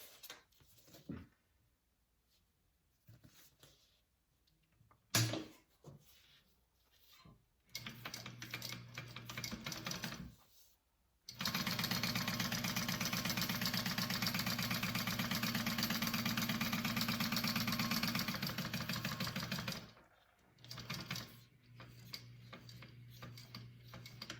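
Sewing machine stitching lines on a fabric rectangle: quiet handling noises, then a long steady run of rapid mechanical stitching, followed by a brief shorter burst.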